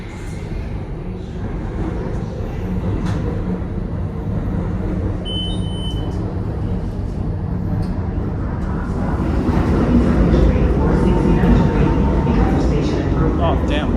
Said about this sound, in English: There is a Manhattan-bound Local 7 train to 34th Street, Hudson Yards. Approaching the station